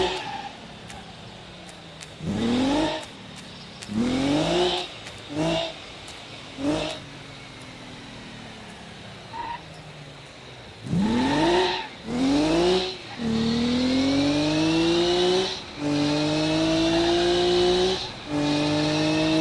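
A car in the BeamNG.drive driving game revs up in repeated bursts, rising through gears with whining engine pitch sweeps, pausing between pulls and then accelerating in a long sustained run.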